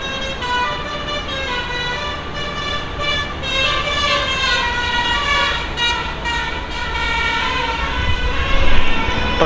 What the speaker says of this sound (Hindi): ट्रक का हॉर्न सुना